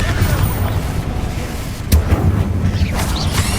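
A Confringo blasting spell explodes in the Hogwarts Legacy video game, a short sharp burst heard loud in the middle of a rumbling low game soundscape with ongoing effects.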